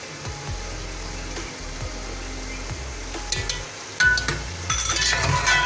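Ginger garlic paste and ground garam masala frying for Sindhi chicken biryani, with a steady soft sizzle, occasional spoon scrapes and clinks against the pan, and louder stirring bursts toward the end, with no talk.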